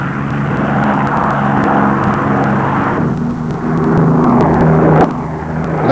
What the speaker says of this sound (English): Good view of takeoff.